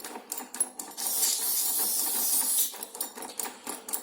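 A short burst of aerosol lubricant sprayed onto a motorcycle cable hisses steadily for about a second and a half, with faint mechanical clicks before and after.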